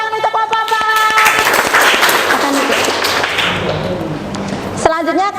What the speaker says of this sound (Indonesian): Kita berikan aplaus tepuk tangan untuk kelompok 4.